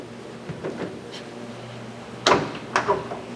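Metal door of a 1972 car rattled and tugged while locked, giving a few sharp clunks and latch knocks, with a couple of louder tugs near the end, close by.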